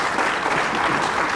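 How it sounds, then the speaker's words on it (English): Audience applause at a 2014 football league medal presentation night, a steady, dense wash of clapping from a large crowd filling the whole moment without a break. "Let's give him another big round of applause, ladies and gentlemen."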